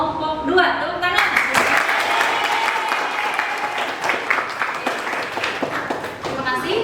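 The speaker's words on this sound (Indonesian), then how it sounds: "Tepuk tangan." Classroom applause for a group of students, a burst of many hands clapping at close range that swells and carries on for several seconds, with voices mixed in.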